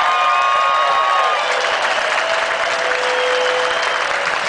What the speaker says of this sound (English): would you all give yourselves a round of applause on that front?